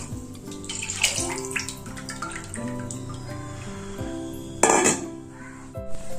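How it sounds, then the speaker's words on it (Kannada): Leftover buttermilk is poured into a kitchen vessel, a running liquid splash with a sharper burst of pouring near the end, mixed with clinks of metal utensils against the pot and background musical tones, with no talking. "ಒಂದು ಪಾತ್ರೆ ಇಟ್ಕೊಂಡು ಈ ಮಜ್ಜಿಗೆ ಏನಿದೆ ಇದಕ್ಕೆ ಹಾಕೋ"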